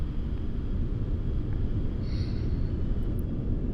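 A Lockheed U-2 jet engine throttled back in a flight simulator gives a steady, low broadband rumble. It holds even and continuous, with a faint hiss above it and no voices.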